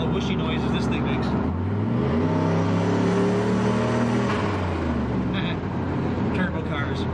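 A turbocharged 1938 Pontiac's engine revs and whooshes from inside the cabin, a steady drone rising and falling in pitch with talk underneath.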